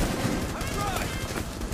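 Gunfire in the video game Rainbow Six Siege: rapid, dense bursts of shots crackling for the whole stretch, loud and close, with no talk over them.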